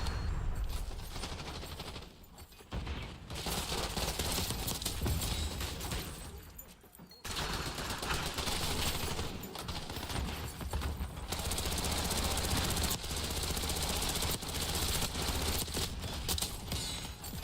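Sustained automatic fire from Black Ops 6, loud and continuous, broken by two short pauses, with bursts overlapping and mechanical clatter between volleys.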